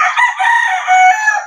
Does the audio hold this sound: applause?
no